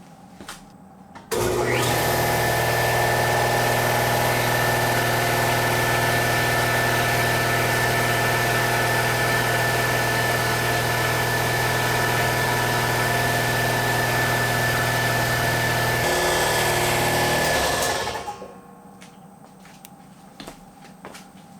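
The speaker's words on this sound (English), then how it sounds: "I've got the air compressor over here." An air compressor runs in a DIY workshop. It kicks on abruptly with a loud, steady mechanical drone, holds constant for about seventeen seconds, then shuts off and winds down, with no talking.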